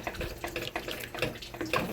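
A little water poured into a cooking flour mixture sloshes and splashes in uneven bursts, close and fairly loud, with clinks of stirring mixed in.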